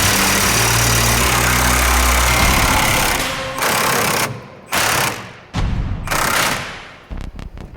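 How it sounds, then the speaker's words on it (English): An impact wrench loosens the U-bolts on a 2003 Ford F-250, loud and close: a long sustained whirring burst followed by several short hammering bursts separated by gaps. "I'm gonna put my impact to the U-bolts on this side."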